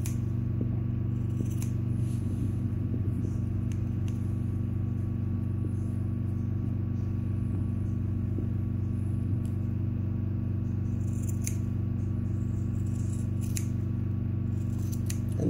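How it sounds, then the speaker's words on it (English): Scissors trim hair on a schnauzer's ear, making steady, faint snipping clicks over a constant low mechanical hum, with no talk. "So when you're gliding it and you're cutting, you'll be able to see what you're cutting and you won't cut the ear."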